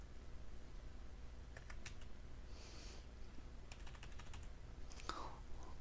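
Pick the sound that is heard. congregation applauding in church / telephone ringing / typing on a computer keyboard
typing on a computer keyboard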